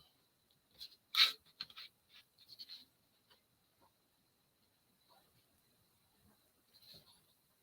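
A pen draws a straight brown line along a ruler on scrapbook paper, giving quiet, scratchy strokes in short intermittent bursts, with a louder scrape early on and softer scratches after.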